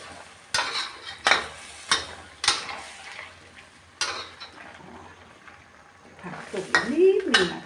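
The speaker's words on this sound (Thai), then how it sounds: "ก็คนให้ทั่วนะคะเพื่อนๆ" A spicy catfish stir-fry with pea eggplant is stirred in a pan, sharp spatula scrapes and clacks at a regular rhythm over a soft sizzle, with a voice speaking briefly near the end.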